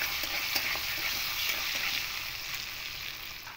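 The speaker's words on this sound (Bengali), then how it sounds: "দিয়ে পটলগুলো একটু হালকা করে ভেজে নেবো।" Pointed gourd (potol) pieces, seasoned with turmeric and a little salt, fry lightly in hot oil with a steady, even sizzle and occasional stirring scrapes throughout, with no talking.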